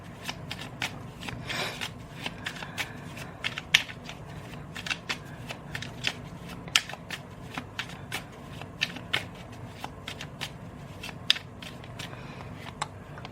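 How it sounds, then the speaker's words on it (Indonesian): Playing cards are shuffled by hand close up, a rapid series of crisp riffling snaps and flicks in irregular bursts over a soft background, with no talking. "Aku shuffle dulu kartunya."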